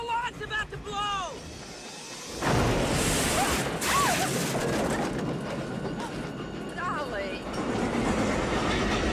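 Cartoon train racing along the rails with a rushing, rattling roar and whoosh that sets in abruptly and continues loud, with excited voices calling out over it.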